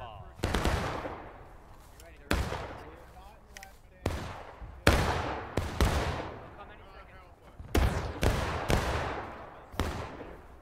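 Musket volleys in the War of Rights battle game, sharp loud gunshots crashing out every second or two with long echoing decays, some near and some overlapping in ragged bursts, with voices talking between shots.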